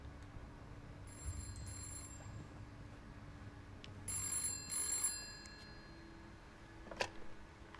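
A telephone rings in the video game This Bed We Made, a few quiet electronic ring bursts spaced apart over a low ambient background, with no talk.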